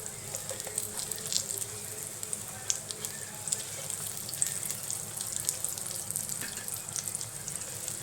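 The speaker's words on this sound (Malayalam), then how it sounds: "അങ്ങനെ നമ്മൾ ഒരു സെറ്റ് വറുത്തെടുത്തു ഇനി ആ ബാക്കിയുള്ളതും കൂടി നമുക്ക് വറുത്തെടുക്കണം" Brinjal slices coated in cornflour or rice flour frying in oil, a steady close sizzle with faint crackles running throughout, no talk.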